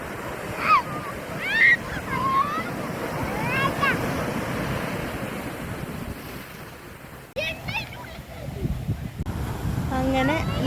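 Sea waves roll and wash ashore at Kozhikode beach in Kerala, a loud continuous surf roar with wind buffeting the microphone and people's voices heard over it.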